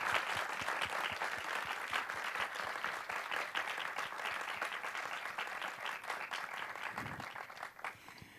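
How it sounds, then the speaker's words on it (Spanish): A faint, steady round of applause from students at a film director's masterclass, many hands clapping continuously before fading slightly near the end. "Sisplau, un aplaudiment."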